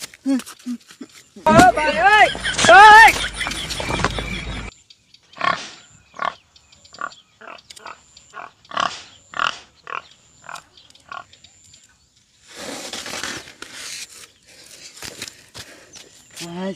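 A wild pig grunts and snorts in a series of short, rhythmic bursts near a farm field, with footsteps and a person talking around the animal sounds.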